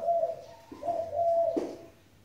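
A decoy dove (chim cu) coos nearby in a few soft, hollow, low notes, the second call stretched longer, with no other sounds around it.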